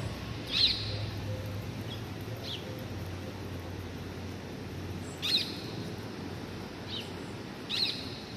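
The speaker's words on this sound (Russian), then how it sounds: "На самой верхушке сидит попугай зеленый и орет." A green parrot perched at the top of an araucaria tree in Tenerife gives short, shrill calls about five times at uneven intervals, fairly distant over a steady outdoor hiss.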